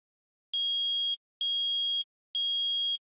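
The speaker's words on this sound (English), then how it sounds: "Beep boop, beep boop, beep boop." Three identical electronic beeps from the Phoenix Wright: Ace Attorney video game, each a steady, bright, high tone lasting just over half a second, evenly spaced and alone.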